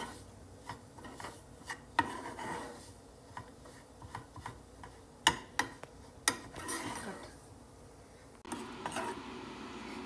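Atta halwa being stirred in a pot, with soft scraping and rubbing and scattered sharp spoon clicks against the metal, close and fairly quiet, irregular in rhythm.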